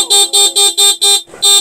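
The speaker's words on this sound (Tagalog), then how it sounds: "testingin muna natin yung Europa tsaka yung stock horn." A loud, close Bosch Europa horn on an ADV160 motorcycle beeps in rapid repeated bursts, six short honks in quick succession with a brief gap before the last.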